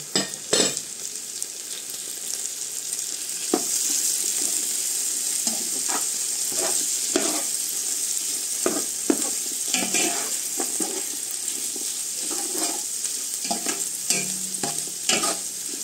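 Small sausages and a little chicken are fried with cooked garlic in a pan, giving a steady bright sizzle broken by frequent scraping and clattering stirs of a utensil against the pan.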